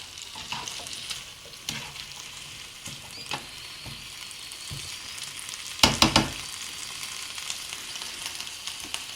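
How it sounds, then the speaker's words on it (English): Noodles stirring and frying in a pan over low heat, a soft steady sizzle with scattered scraping clicks and a louder rattling burst of stirring near the middle; no talking. "Give these a nice stir"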